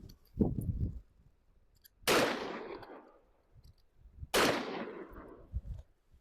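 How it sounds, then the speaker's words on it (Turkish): Two loud, sharp shotgun blasts from a Sarsılmaz Super Champion over-under shotgun, each one ringing out and decaying outdoors, with some handling noise before and between them. "Şimdi bir atış yapıyorum."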